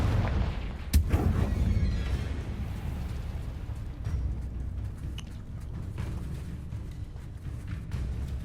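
A Confringo spell explosion from the Hogwarts Legacy video game goes off as one sharp booming blast near the start, followed by a low rumbling tail and game ambience with no speech.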